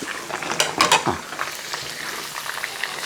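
Chillies and finely chopped onion sizzle in a pan for upma under a steady frying hiss, with a few spatula scrapes and knocks early on, close and fairly loud, with no talking.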